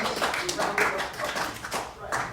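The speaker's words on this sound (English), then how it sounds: "Round of applause." Clapping at a community meeting after thanks to neighbours, a steady patter of many hands filling the room for a couple of seconds, with voices mixed in.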